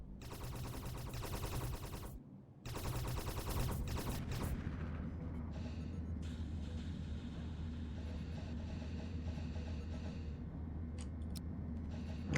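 Rapid bursts of gunfire in the Space Haven video game as crew shoot at rocks, a dense rattling volley for the first four seconds that breaks off briefly and then gives way to a steady low rumble.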